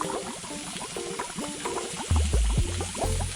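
Bubbling, hissing sizzle in the video game Motel Manager Simulator, with repeated chirpy blips over a constant background hiss, a deeper rumbling burble joining near the end.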